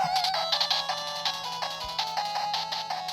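A Gamebox G5 handheld game console powers on with a loud, bright electronic startup jingle of quick repeated tones, like a ringtone melody, played close with no talking.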